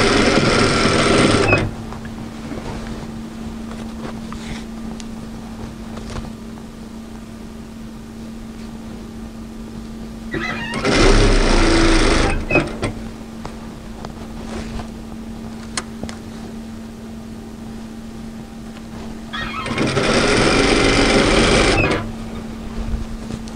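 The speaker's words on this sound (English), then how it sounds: "So as we sew across the top, we're going to sandwich in the straps" A sewing machine stitching across the top of a cross-back apron with straps sandwiched in, three loud bursts of rapid mechanical whirring separated by quiet pauses with a faint steady hum.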